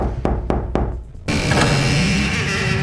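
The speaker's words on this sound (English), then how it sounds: "Knocking on the door, she called out" Knocks on a cottage door, three sharp raps close by, then a swell of fairy-tale music takes over.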